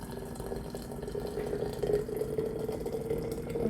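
Freshly boiled hot water poured into a jar, a steady close trickling and splashing stream that runs continuously and grows slightly fuller toward the middle, with no talking.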